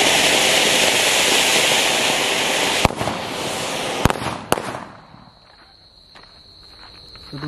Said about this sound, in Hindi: तो दोस्तों अब हम लोग टेस्ट करने जा रहे हैं हमारा ये बिजली बम वाला अनार